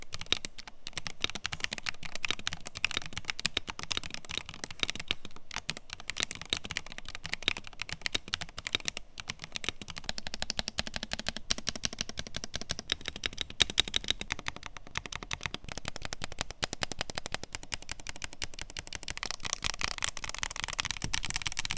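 Steady typing on a Redragon Dharma K740 aluminum mechanical keyboard with pre-lubricated switches, a continuous run of close, plasticky keystrokes with brief pauses, neither deep nor sharply clacky.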